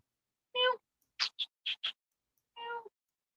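A series of short, quiet cat-like meows and chirps, two longer tonal calls framing a quick cluster of brief squeaks, isolated against silence.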